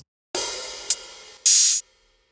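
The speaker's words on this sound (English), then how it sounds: "hats" Sampled hi-hats from a drum kit, heard alone: a long bright hiss of an open hat with a quick closed tick in the middle, then a second short burst of sizzling open hat that cuts off abruptly.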